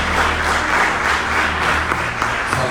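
A church congregation stands and applauds during a worship service, a dense, even roar of many hands clapping together that holds steady throughout without pause.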